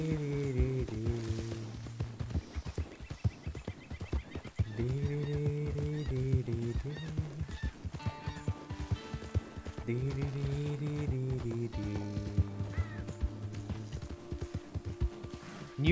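A horse's hooves clip-clop at a steady gait during riding in Red Dead Redemption 2, heard under recurring game music with sustained tonal chords and an occasional snort.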